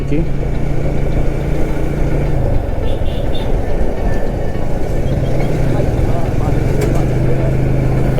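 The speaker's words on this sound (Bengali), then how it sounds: "এদিকে একটু গ্রামের রাস্তা তো এই জন্য আসলে একটু গাড়ির চাপটা বেশি বিশেষ করে অটোর চাপটা একটু বেশি" On a village road near a bridge, heavy traffic with auto-rickshaws produces a loud, continuous rumble of idling and passing engines. A voice talks over the steady drone.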